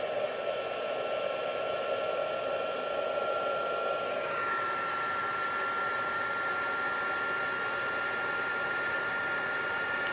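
A heat tool blows steadily and loudly while melting embossing powder on a handmade New Year's card, a constant whooshing hiss with a slight shift in tone partway through.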